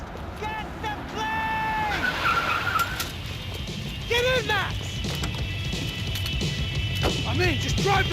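A car in the Max Payne 3 video game drives hard with a steady engine roar, its tires squealing through repeated skids, while voices shout over the chase.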